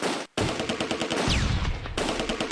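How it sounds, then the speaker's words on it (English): Rapid gunfire and a mortar blast in a World War II tactical battle at a bridge, loud repeated shots crackling close by with a brief gap early on and a deep thump midway. "He says as a mortar goes off."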